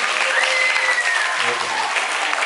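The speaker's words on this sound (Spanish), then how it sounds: "Un aplauso, ¿eh?" A student audience at a school discussion event claps together in dense, steady applause that fills the whole stretch at a consistent loud level, with no speech over it.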